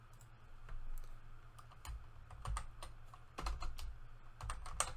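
Scattered keystrokes and clicks on a computer keyboard and mouse, fairly close and moderately loud, irregularly spaced over a steady low background hum.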